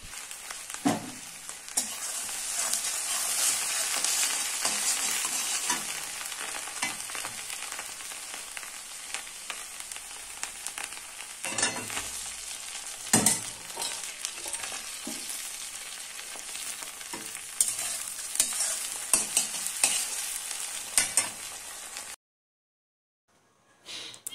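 Spice paste for a Bangladeshi eel-fish curry fries in a pan with a continuous loud sizzle, broken by repeated scraping stirs of a spoon against the pan, no voices, ending abruptly in silence.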